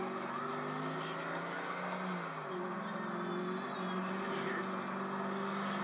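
An engine in a video game drones and revs continuously under steady game noise, its pitch rising and falling with acceleration, loud and close throughout.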